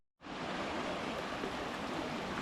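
A river on the Mafate trail at Trois-Roches rushes loudly and continuously, a dense broadband wash of flowing water heard up close, with no voices.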